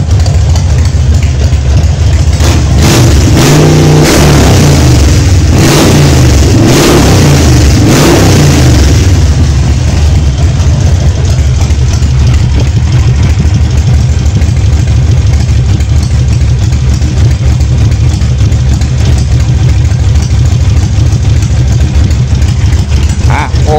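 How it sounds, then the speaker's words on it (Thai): Harley-Davidson Sportster 48 motorcycle engine idling loud and close, with a few throttle blips early on before the revs settle into a steady, lower idle. "รอบลงนะรอบลงเหลือ700 800 จากทีแรกพันนิดนิด"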